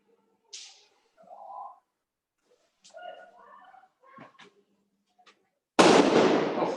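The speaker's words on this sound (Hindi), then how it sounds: "पटाखे बज रहे हैं इस बार" Firecrackers going off outside during festival season, a sharp loud burst with a noisy crackling tail near the end, after quieter scattered sounds.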